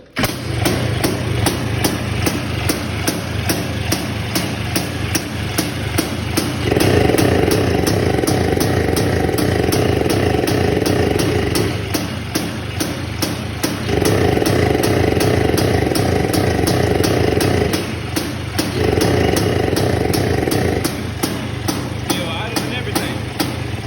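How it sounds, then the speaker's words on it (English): A 2001 Yamaha Blaster ATV engine fitted with Chinese parts idles loud and close in a fast, steady, putting rhythm, with a slight rise and fall in revs throughout and some talking over it. "Bike still idle and everything, man."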